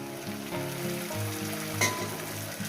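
Masala paste hitting fried onions in a hot pan, a steady close sizzle and crackle with a brief louder spatter partway through, under a faint musical drone, with no voice.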